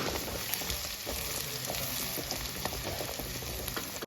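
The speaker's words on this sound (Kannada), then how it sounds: "ಈಗ ಗಾರ್ಲಿಕ್ ಕೆಂಪಾಗುವವರೆಗೂ ಫ್ರೈ ಮಾಡಿ ಆಯಿಲಲ್ಲಿ." Garlic frying in hot oil, a steady close sizzle and crackle that runs continuously without pause.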